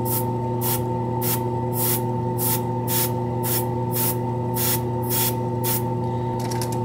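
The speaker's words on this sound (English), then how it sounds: "I'm just going to adjust my airbrush here to have the least amount of flow possible" Short airbrush bursts of thinned white paint, set to minimal flow for weathering a model locomotive, hiss in a steady rhythm of about a dozen pulses over a constant low compressor hum, close and moderately loud.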